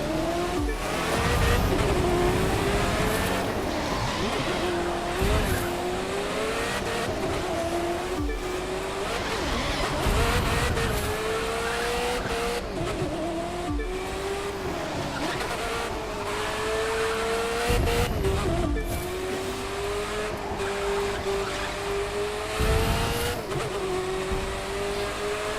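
Race car engine in The Crew 2 revving continuously near the end of a race, with wavering pitch, repeated gear-shift dips and bursts of tire squeal, ending in a plunge off a cliff edge; loud and steady throughout.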